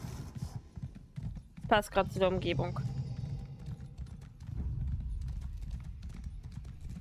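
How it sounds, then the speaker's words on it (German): A ghostly horse in the spirit world of Elder Scrolls Online clops and snorts near the start, then someone speaks briefly over a low, continuous ambient rumble. "Komm, hier mein Pferdchen."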